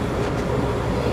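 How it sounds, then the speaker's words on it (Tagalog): An MRT train slows as it approaches North Avenue station, a steady, loud rumbling drone from inside the carriage, with no one talking. "Medyo bumagal na yung train."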